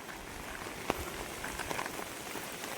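Dense, steady rain falling in the Jim Corbett forest, a continuous patter of drops on leaves and surfaces with a few sharper nearby splats, no voices.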